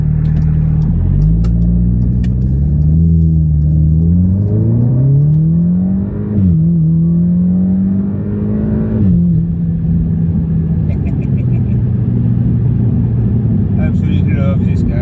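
A 400 bhp Audi S3 8V Black Edition accelerates hard, its engine and exhaust droning loudly and climbing in pitch through gear changes, with brief dips between pulls and a steady cabin rumble throughout.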